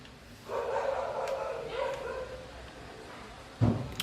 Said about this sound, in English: Now don't mind the dog, it's gonna keep on barking.